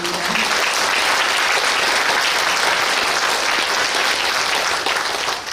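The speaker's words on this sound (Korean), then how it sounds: "작가님에게 박수 부탁드리겠습니다" An audience in a city hall auditorium applauds a visiting novelist at a special lecture, a thick, continuous wash of many hands clapping, loud and even throughout with no voices over it.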